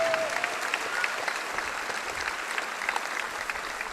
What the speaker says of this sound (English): please give these special people a big round of applause